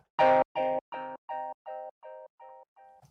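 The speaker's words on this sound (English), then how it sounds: "For the chord stabs," Eight short Arturia synthesizer chord stabs hit in a steady rhythm, each cut off cleanly, fading slightly in loudness from first to last.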